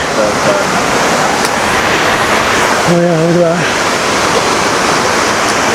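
Water pours steadily into a desert waterfall pool near Palm Springs, a loud, continuous roar filling the whole stretch, with a person speaking briefly over it.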